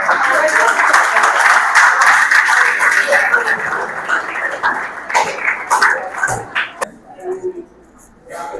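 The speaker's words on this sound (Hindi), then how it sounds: "एक बार जोरदार तालियां।" Loud crowd applause at a road-safety and student-success event, dense clapping for about six seconds before thinning into scattered claps and fading, with faint voices beneath.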